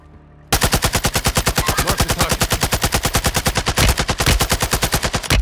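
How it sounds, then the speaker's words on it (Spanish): An automatic weapon fires in Call of Duty: Modern Warfare II, a loud, close, sustained rapid burst of evenly spaced shots lasting about five seconds after a brief quiet start. "qué raro disparar esta arma"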